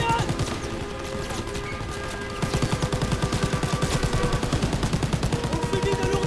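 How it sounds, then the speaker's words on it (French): Rapid machine gun fire in the World War II shooter game Call of Duty WWII hammers out in a steady stream of evenly spaced bursts, loud and close, building after a quieter opening with game noise. "Mitrailleuse."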